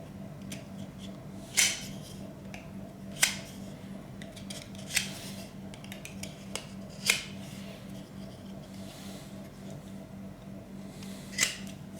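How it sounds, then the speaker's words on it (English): Scissors snip through excess leather during restoration of an 1865 Forster & Andrews pipe organ, five or six sharp, isolated cuts spaced a second or two apart over a steady low hum. "Cut round the excess leather."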